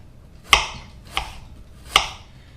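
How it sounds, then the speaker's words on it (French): Three crisp knife strokes chop through an onion on a cutting board, spaced unevenly about half a second apart, each a sharp close thud with a bright crunch, in a quiet kitchen. "Donc l'oignon, je vais le couper en deux et je vais l'émincer finement."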